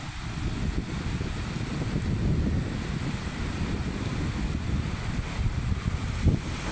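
Storm wind blows outdoors over a flooded highway market area in Silchar, a steady roaring rush buffeting the microphone, with a rumbling low wash throughout.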